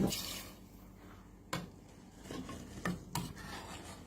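A wooden spatula scrapes and stirs rice inside a pot, with soft rubbing and several sharper knocks against the side, close by and fairly quiet.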